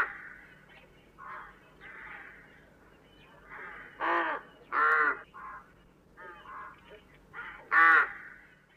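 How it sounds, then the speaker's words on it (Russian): Rook calls in repeated harsh, hoarse caws, several loud bursts spaced irregularly against a low steady background, some caws nearer and stronger than others. "Грач."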